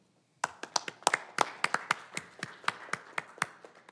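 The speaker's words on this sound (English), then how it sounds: "I applaud you." A few hands clap in a brisk, uneven run of sharp claps, close and fairly quiet, with no voices.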